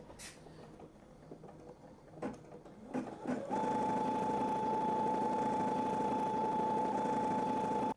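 A Brother SE700 sewing and embroidery machine stitches, starting after a few quiet clicks and handling sounds, then settling into a steady, fast mechanical hum with a constant whine that runs on to the end.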